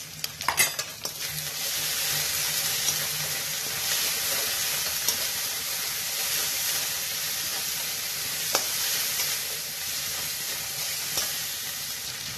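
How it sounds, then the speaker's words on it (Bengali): Onion frying with ginger and garlic paste for an egg mustard-poppy seed dish, a broad steady hiss of oil in the pan with a few faint spoon clinks, close and continuous. "আদা বাটা রসুন বাটাটা এক চামচ করে করে ভালো করে পেঁয়াজটাকে কষিয়ে নিতে হবে"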